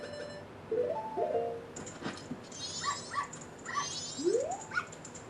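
Electronic game sounds from the Nintendo 64 game Zelda: Majora's Mask, with a dog's short yips and whimpers, several chirpy tones and a rising sweep, fairly quiet and intermittent.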